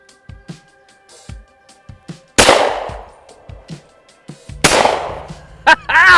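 .410 shotgun fired at clay targets outdoors, two loud sharp reports a couple of seconds apart, each with a ringing decay, between quieter background sounds.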